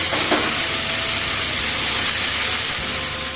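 A tomato goes into onions frying in a pan for a moringa leaf stir-fry, raising a loud, steady hiss of sizzling that holds close and unbroken throughout.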